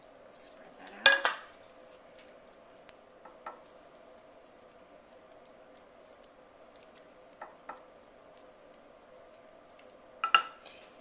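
A spoon spreads a ground beef and tomato sauce mixture across a baking dish for baked ziti, giving two sharper scraping clatters and a few faint, scattered clinks against the dish in a quiet room.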